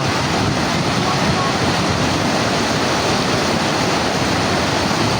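Flood water rushing in Hajigabul, Azerbaijan, makes a loud, continuous broadband roar that holds steady and close throughout the few seconds.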